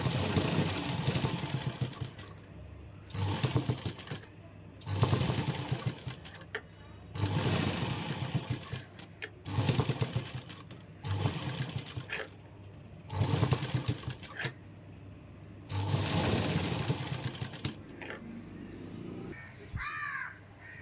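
A sewing machine stitches lace onto a blouse in repeated bursts of close, steady whirring a second or two long, separated by short pauses. Crows caw in the background and there is faint handling noise near the end.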